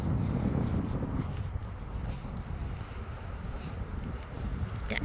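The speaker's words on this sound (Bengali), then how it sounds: "অনেক বাতাস, বাপরে বাপ, এত ঠান্ডা বাতাস হবে আমি আসলে এক্সপেক্ট করিনি" Strong cold wind beside a lake roars and buffets the microphone continuously, a dense low rumble with gusts and no clear voices.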